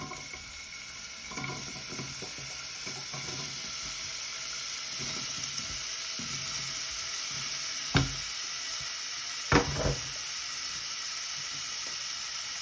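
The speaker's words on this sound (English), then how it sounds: "put these chopped vegetables into the bottom of our heavy based pan, and you can just hear it starting to sizzle" Chopped vegetables sizzle steadily in a hot heavy-based pan, a constant hiss with a few soft clatters and two sharp knocks near the end.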